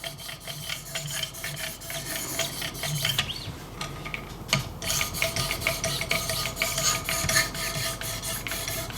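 Knife blade being sharpened on a Wicked Edge guided system with 2200 grit stones, a steady close rasping and rubbing of stroke after stroke running throughout, with a brief pause partway through.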